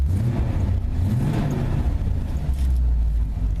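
Truck engine running in a post-apocalyptic survival video game, a steady low rumbling drone with slight rises in pitch like gentle revving, close and continuous with no talk over it.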